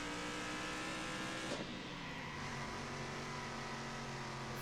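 Race car engine in the Circuit Superstars racing game, a steady droning tone that dips and recovers as the throttle is feathered through bends, loud and continuous with no talk.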